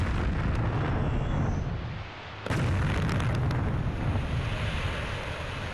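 Quarry rock blast bringing down about 25,000 tons of rock for an asphalt plant in Romania: a loud, broad rumbling roar with a brief dip, then a second sustained wave of heavy crashing debris that continues to the end.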